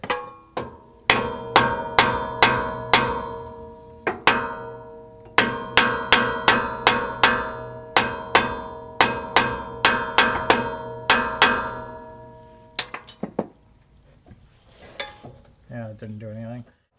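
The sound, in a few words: metal tapping while fitting 1960 Bel Air pinion seal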